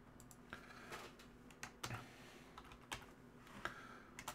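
Quiet, close computer keyboard typing runs throughout in an irregular stream of soft clicks with a few sharper keystrokes, and no voice over it.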